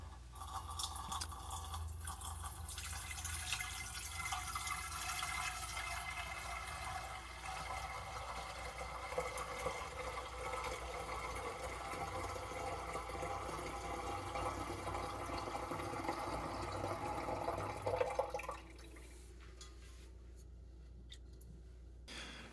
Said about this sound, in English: Pour the wort into the flask once it's reached room temp.